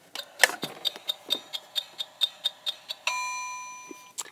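A toy kitchen timer ticks in a quick, even series of about a dozen clicks, then breaks into a bright ringing chime that fades out over the last second, heard close with no talking.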